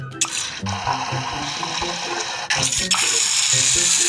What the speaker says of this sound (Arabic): مية من الحنفية بس